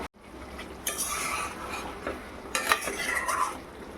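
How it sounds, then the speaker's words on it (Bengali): Meat is sautéed and stirred in a pan at home, with soft sizzling beneath two bursts of scraping and clinking as a utensil works through the pieces, close and moderately loud with no talking. "মাংসটা কষিয়ে নিচ্ছি,"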